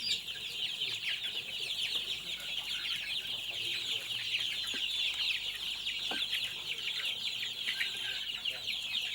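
Chickens on an Indonesian farm that are fed cassava leaves cluck continuously in a busy, overlapping chorus, with a steady background of farmyard noise and no clear talk.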